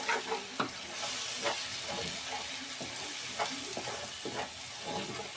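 Turmeric and chilli powders sizzle in hot oil in a pan for a garlic-fenugreek curry, with a continuous frying hiss and irregular scraping strokes as they are stirred, close and without voices.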